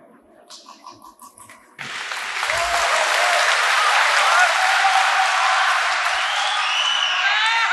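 An audience at a religious debate on whether Jesus is God breaks into sustained, dense applause after a speaking voice, the clapping loud and steady with scattered whoops until the end.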